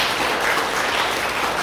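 A church congregation breaks into steady, dense applause that fills the short moment evenly, loud and close, with no voices over it.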